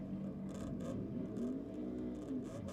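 Two-stroke drag racer running down the strip at Sydney Dragway, a rising whirring engine note with some scraping texture, heard at moderate distance and fairly faint.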